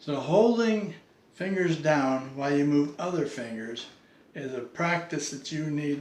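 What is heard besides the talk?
No distinct noise like a dog, phone or traffic.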